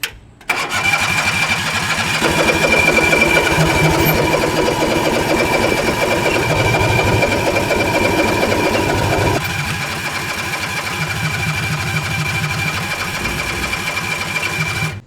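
A 670cc engine on a 50HP riding mower revs hard and loud near the listener as a wheelie is tried, holding a steady high buzzing drone that eases slightly in the final seconds.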